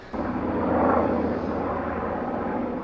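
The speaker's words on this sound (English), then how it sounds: "Helicopter." A helicopter roars overhead, a loud, steady engine drone with a broad rushing noise that swells slightly, then holds.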